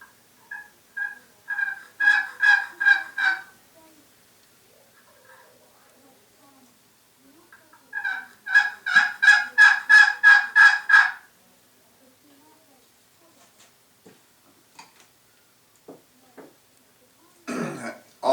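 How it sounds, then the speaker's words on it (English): A wooden turkey call is worked with a Purple Heart striker, producing two bursts of rapid, raspy yelping clucks, each a series of about eight close notes, separated by quiet, with a brief scratchy scrape at the end. "I also like the sound of the Purple Heart striker that came with it."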